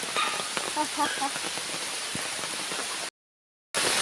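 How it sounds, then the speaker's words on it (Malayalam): Heavy rain pours steadily over a rubber plantation, a dense, close hiss of drops that runs unbroken, cuts out briefly, then returns. "ഭയങ്കര മഴയാട്ടെ"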